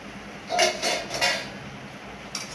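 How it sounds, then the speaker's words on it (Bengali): A metal lid comes off a cooking pot of mango chutney simmering in a home kitchen, giving a few close, bright clanks and rattles over about a second before the room settles into a quiet hiss. "ঢাকাটা খুলে দেখবো"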